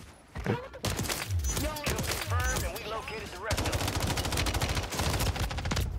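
Lockwood 680 shotgun blasts in Warzone 3 go off amid dense, continuous gunfire and explosions, loud and close, with voices talking over the combat.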